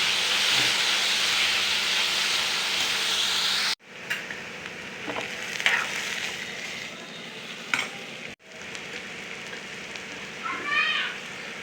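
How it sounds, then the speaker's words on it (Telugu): Onions frying with fresh coconut on a low flame give a steady hiss and sizzle. The sound cuts out twice, and light stirring clinks are heard near the end. No voice is heard. "సిమ్లో పెట్టుకొని మంచిగా ఫ్రై చేసుకోవాలి ఉల్లిపాయలు"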